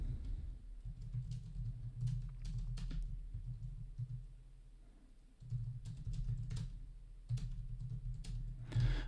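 Bursts of keyboard typing on a computer, close and quiet, in several short runs separated by brief pauses, with no talking.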